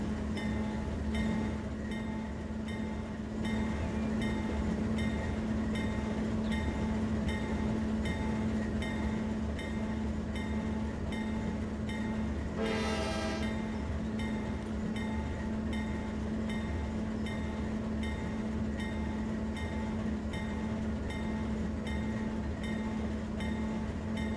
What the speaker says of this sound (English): It's a long train. It's actually a train.